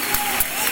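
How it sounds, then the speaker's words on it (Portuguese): A church congregation applauds to welcome a pastor, a brief, loud, dense wash of clapping with a voice faintly present underneath. "Eu quero que você receba com um aplauso."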